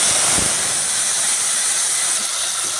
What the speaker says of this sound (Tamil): கடுகு உளுந்தம்பருப்பு சேர்த்துடலாம் கட்டி பெருங்காயம் அதில் சேர்த்து நல்லா பொரிய விடுவேன்